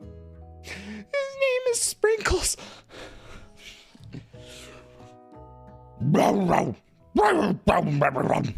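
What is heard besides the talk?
dog barking in video game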